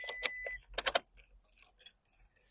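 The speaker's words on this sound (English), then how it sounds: "Let me find my truck keys here." A bunch of truck keys jangles and clinks in a few quick shakes, close by, with brief metallic rattles in between.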